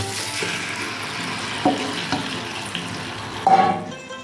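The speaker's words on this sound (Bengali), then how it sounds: "চিকেনগুলো এইভাবে ভালো করে ফ্রাই করে নিতে হবে বন্ধুরা।" Marinated chicken pieces fry in butter in a pan with a moderate sizzle, punctuated by a few louder stirring clatters and splashes, close and without speech.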